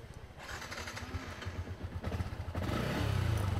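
A Yamaha Exciter motorcycle fitted with a Honda Smart Key cranks and starts nearby, quiet clicks and whirring giving way to an engine that catches and settles into a steady, louder idle.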